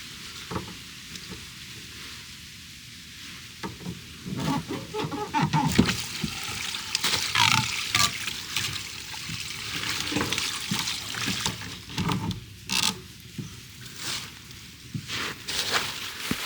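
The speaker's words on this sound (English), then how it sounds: "This is gonna start gushing out of this tank as soon as I take this line off." Water gushes and splashes from an off-grid tiny cabin's water tank once a line is disconnected during winterizing before a freeze, an irregular near sputtering with bursts and trickles growing stronger after a quieter start.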